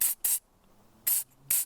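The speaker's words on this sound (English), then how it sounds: "I'm going to spray some easy start because it sometimes needs a little bit of help." Easy Start starting aerosol sprayed into the engine of a Ford Anglia wedding car, four short sharp hissing bursts in two pairs, close and loud, with quiet gaps between.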